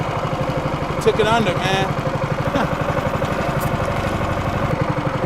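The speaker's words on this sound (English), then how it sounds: "That's why I like using the motor and not a trolling motor." A boat motor runs with a steady, rapid throbbing hum during a jug fishing trip for blue catfish, with someone speaking briefly over it.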